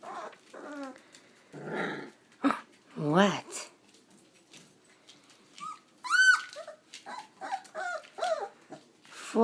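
A 3.5-week-old Italian puppy litter whines, whimpers and gives small growls and yips close by, scattered bursts mixed with a person talking softly to them.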